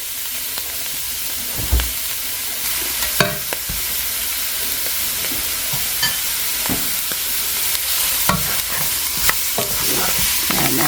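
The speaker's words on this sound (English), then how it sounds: "I'm going to go ahead and throw in half a stick of butter" Half a stick of butter melts in a pot over low-medium heat after charring vegetables for chicken chili chowder, giving a steady soft sizzle with occasional utensil clinks and stirs throughout.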